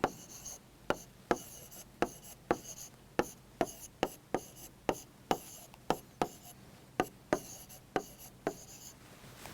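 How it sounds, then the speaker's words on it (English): Marker or chalk strokes on a board during a chemistry explanation, a long series of short, crisp scratches and taps in an irregular rhythm, close and fairly quiet, with a faint voice in the background. "So I am writing down the product over here."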